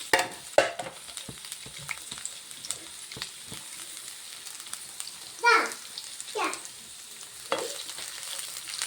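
Chopped large onion dropped into hot oil sizzles softly in a pan for beef liver dry fry, with scattered crackles and a few louder spatters and stirring knocks, fairly quiet and close.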